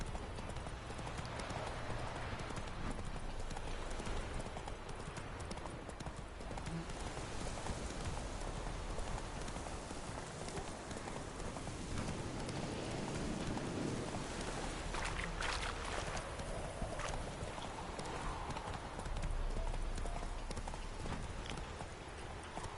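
Roach, Geralt's horse in The Witcher 3, gallops steadily with rhythmic hoofbeats that run continuously and loud against a rushing ambient backdrop of the game world.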